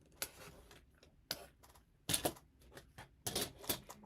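Turquoise fabric being cut for a bunny quilt block, a few sharp, crisp snips in short separate bursts with quiet gaps between them, close but fairly soft.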